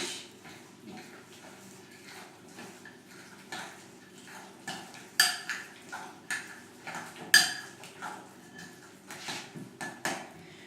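Tuna being stirred into cake batter in a salad bowl, with soft intermittent scrapes and clinks of a utensil against the bowl, fairly quiet and close, with a few sharper knocks near the middle.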